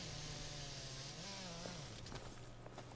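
Chainsaw-wielding enemy in Final Fantasy XV, a steady buzzing engine drone held throughout with a brief pitch rise as it swings, loud against game combat noise.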